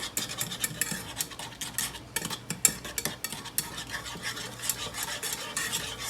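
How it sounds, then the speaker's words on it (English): Rapid whisking of a sweet glaze in a pot over medium-high heat: a steady, close metallic scraping and clinking that runs the whole time, with a faint simmer underneath and no voices. "I'm going to mix it together with a whisk."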